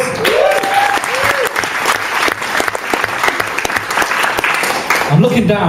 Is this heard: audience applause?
yes